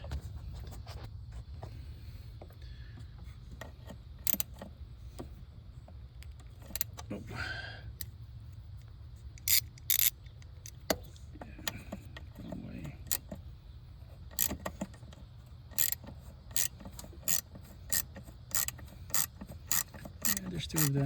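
Ratchet work loosening 8mm bolts on an Acura MDX in a tight spot: scattered sharp clicks and metallic clinks over a quiet low hum, with someone talking in between.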